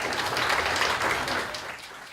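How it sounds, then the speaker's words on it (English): A recital audience gives a big round of applause for a blues pianist, a full wash of clapping that holds steady and then eases off slightly at the end. "Big round of applause for Carrie Anderson."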